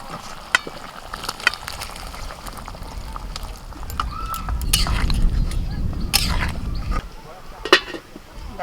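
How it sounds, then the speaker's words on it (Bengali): Fried potatoes and peas tipped into a bubbling pan of masala, a swell of sizzling and simmering with spoon clinks and scrapes, close up. "মশলা ফুটছে ভাজা আলু আর মটরটা দিয়ে দিচ্ছি"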